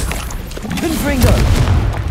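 A Confringo explosive spell goes off in the video game Hogwarts Legacy, with loud, thumping booms over dense game noise, and a voice speaks over the blasts.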